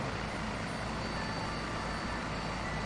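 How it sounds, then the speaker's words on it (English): A helicopter's engine and rotor drone in a flight simulator game, a steady, moderately quiet, broadband whir with a faint rhythmic chop and no talk. "Oh, my helicopter's doing weird things."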